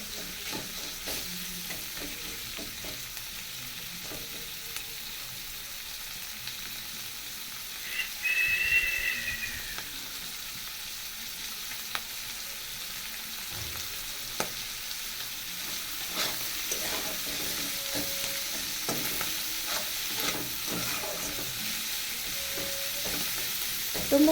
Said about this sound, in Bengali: নুন, হলুদ, কাঁচা পাকা লঙ্কা দিয়ে দিলাম। কষিয়ে বেশি কষাবার দরকার নেই।